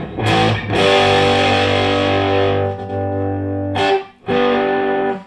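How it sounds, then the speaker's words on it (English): Loud distorted electric guitar chords, played straight into a Morgan MVP35 amp, ring out and sustain, with a brief break and a fresh strummed chord near the end; no voices. "Guitar, right into amp, distortion."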